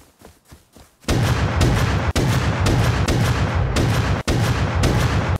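Rapid automatic gunfire in the survival video game Rust, a loud sustained burst after a second of quiet, with a couple of brief gaps and no talking over it.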